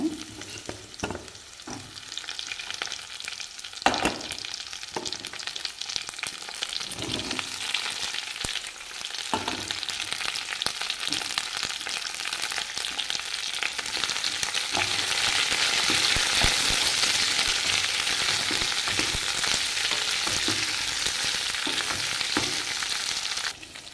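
Ivy gourd frying with onion and garlic in a pan gives a steady loud sizzle throughout, broken by frequent scraping stir strokes close by, the hiss thickening toward the end, with no speech.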